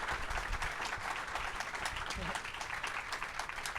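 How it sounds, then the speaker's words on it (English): Audience applause at an occultism panel, dense steady clapping sustained throughout at close range with no talk over it. "can we get a round of applause for this?"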